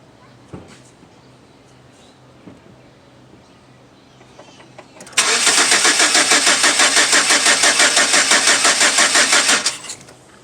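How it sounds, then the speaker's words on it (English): A Chevrolet Silverado pickup with a no-start fault cranks steadily for about five seconds with a fast, even starter rhythm. It never catches, and the cranking follows a quiet stretch. "So we'll go ahead and crank that and make sure that we're getting that."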